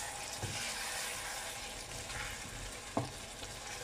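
Peanut sauce with chicken and tomato sizzling gently in a pan over low heat, a soft continuous frying hiss with an occasional light knock of a utensil, no talking.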